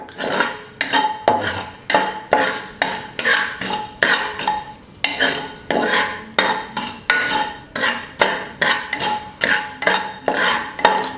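Repeated scraping and clinking of a utensil against a nonstick-coated pan in a steady rhythm, close and fairly loud, dry-roasting green curry paste ingredients over low heat.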